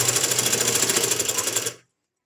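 A sewing machine runs fast and steady, stitching a half-inch seam on a cloth hand joint for a sleeve, with a dense even buzz that stops abruptly near the end.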